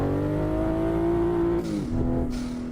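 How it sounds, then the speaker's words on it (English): A Toyota Supra MK5 engine drones loudly in a car simulator game, holding a steady rising pitch before dropping and revving again, close and continuous with no talk. "No, I'm driving the Supra MK5."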